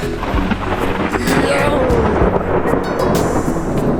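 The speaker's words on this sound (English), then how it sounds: "Lightning is coming down." Loud rolling thunder rumbles continuously, close and heavy, with rain and wind noise mixed in, during a severe lightning storm at Kinzua Bridge State Park.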